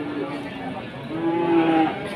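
Cattle at the Pon livestock market in Blora, Indonesia, including Simmental-cross and Limousin beef cattle, low drawn-out moos rising and swelling near the end, heard nearby over a busy crowd murmur.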